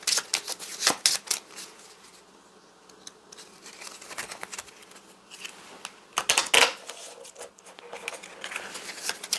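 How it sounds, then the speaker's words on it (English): Cards from the Tanthos deck of the Skulk Hollow board game are shuffled by hand at close range, with repeated crisp riffling bursts and softer slides of cards between them. "Just shuffle up the Tanthos deck here."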